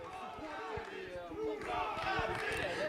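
Spectators roar and cheer at a beach rugby match between Bulgaria and Moldova, a loud, steady crowd noise building toward the end, mixed with an announcer's commentary and scattered thumps.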